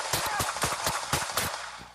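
Gunfire from a suspect shooting at a pursuing Fort Worth police officer, caught on police video: a rapid run of about eight sharp, loud shots in quick succession, tapering off at the end.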